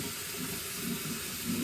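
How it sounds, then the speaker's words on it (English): Tap water runs steadily into a kitchen sink while a pan is rinsed, a constant hissing splash with slight swells in level and no talking. "gonna finish rinsing out the pan"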